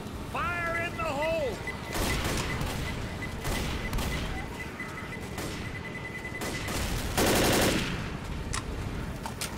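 Sustained gunfire and explosions from a Left 4 Dead match, including a pipe bomb blast, with dense rapid shooting throughout and a loud burst near the end, while a game voice calls out briefly at the start.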